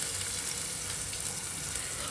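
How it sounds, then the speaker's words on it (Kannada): Onions sizzle in hot oil in a cooker, a steady, close crackling hiss that holds evenly from start to finish with no speech. "ಈಗ ಎಣ್ಣೆ ಬಿಸಿ ಆಗ್ತಾ ಇದೆ. ಈಗ ಒಂದು ಸ್ವಲ್ಪ ಈರುಳ್ಳಿ ಹಾಕ್ಕೊಳ್ಳೋಣ ಒಗ್ಗರಣೆಗೆ."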